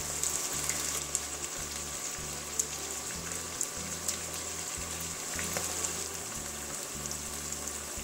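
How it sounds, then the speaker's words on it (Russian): Beef frying in small batches in a kazan for plov, a dense continuous crackling sizzle with scattered sharp pops, steady and close, with a faint low hum beneath and no talking. "Обжариваю мясо. Мясо буду обжаривать небольшими партиями"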